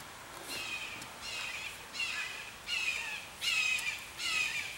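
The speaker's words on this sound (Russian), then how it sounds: "Кричат, каркают, что только не делают." Crows in a park in the USA caw over and over, giving five evenly spaced bursts of harsh, rasping calls over steady outdoor background noise.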